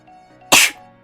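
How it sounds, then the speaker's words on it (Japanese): A single sharp, loud sneeze bursts out alone after a brief quiet moment. "くしゃみ出たわ。"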